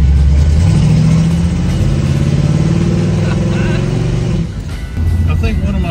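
A 1978 Chevrolet Nova's engine runs loud and close, rising and falling through revs with a rumbling tone, briefly dipping near the end before picking back up.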